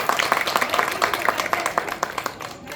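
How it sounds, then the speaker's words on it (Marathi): Audience applause at an outdoor political gathering in Parvati Nagar, Nagpur, a burst of scattered claps from a nearby crowd that thins out toward the end, with voices mixed in. "टाळ्या वाजवा पहिले त्यांच्या"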